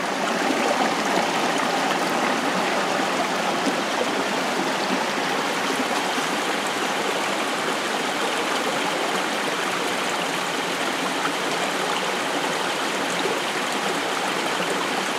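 Crystal-clear water rushing steadily at a river intake structure near Ibagué, a loud, continuous close-up flow with no pauses.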